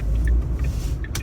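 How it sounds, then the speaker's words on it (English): Cars driving past on a road with oncoming traffic, a steady low rumble of engines and tyres at close range, with no talk over it. "there's bleeding cars coming the other way"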